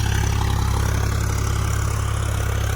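A tractor engine runs steadily on a farm field, a loud, close, continuous low throbbing idle with no breaks and no voices.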